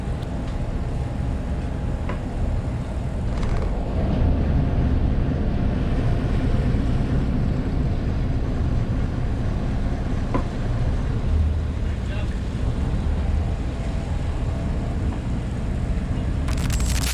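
A single boat engine runs steadily throughout, a continuous low rumble with wind and water noise over it, on a boat that has lost its steering.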